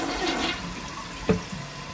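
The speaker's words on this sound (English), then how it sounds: "let's flush it and see what happens" A household toilet flushes with toilet paper in the bowl, a short close rush of water with a brief clunk partway through.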